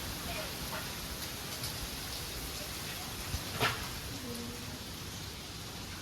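Steady rain with gusting wind on an open village road during a palkhi procession, a constant hiss throughout with a couple of brief louder gusts or knocks near the middle.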